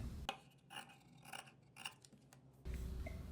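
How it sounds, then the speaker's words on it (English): Scissors trim away excess fabric folded over on a sewing sleeve, giving a few quiet, close snipping and rasping cuts in a row with no voices. "Trim off any excess that you see here."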